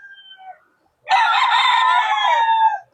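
A gamecock on a game farm in San Ildefonso, Bulacan, gives a single loud, close crow lasting well over a second, after a few soft clucks and a brief pause.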